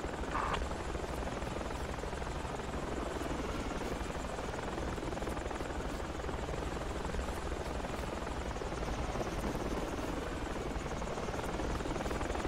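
A helicopter in the video game Project Reality thrums loudly and continuously, a dense steady rotor and engine roar with no talking over it.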